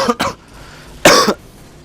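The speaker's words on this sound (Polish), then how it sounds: "Ciebie też taki dziwny kaszel dzisiaj bierze, nie?" Two quick harsh coughs close to the microphone, followed after a short pause by a longer, louder cough, with no talk around them.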